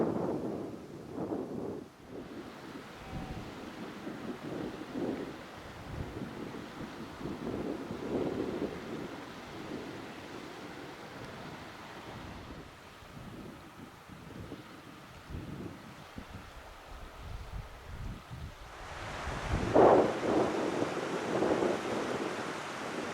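Wind gusting across an open Scottish glen in Glen Esk on a blustery day, a continuous rushing roar buffeting the microphone and swelling in stronger gusts toward the end.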